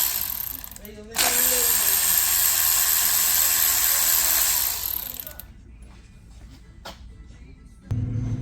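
Mechanical ratcheting from about 1 to 5 seconds as T30 Torx bolts are backed out of a Porsche PDK (ZF 7DT) transmission oil pan, loud and close, then fading into quieter shop sounds before a low thump near the end.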